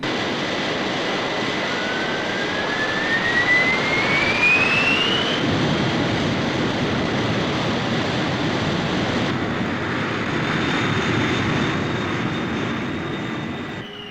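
Roaring jet engines of a Thunderbird aircraft hovering on vertical jets dominate a loud, sustained wash, with a rising whine sweeping upward early on; no voices are heard.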